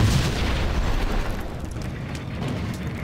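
A shot container bursting in the game Max Payne, one heavy boom at the start that rumbles and fades away into a low, lingering tail.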